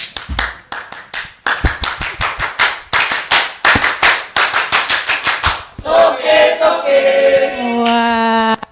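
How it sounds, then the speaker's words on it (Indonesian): A group performs the Pramuka scout clap pattern twice, sharp rhythmic hand claps in quick bursts and steady beats, loud and close, ending in a brief chanted cheer. "Dua kali tepuk pramuka."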